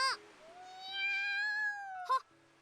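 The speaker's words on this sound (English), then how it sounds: "The black cat from the other day appears from somewhere or other." A black cat in the visual novel The Fruit of Grisaia gives one long, drawn-out meow, set between two short, sharp chirps, clear and close against quiet.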